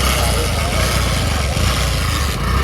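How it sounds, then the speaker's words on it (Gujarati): Motorcycle engine idling close by in the rain in Vadnagar, a steady rough putter throughout with slight unevenness, while people speak over it. "બાઇક ચાલુ થઈ ગયું છે."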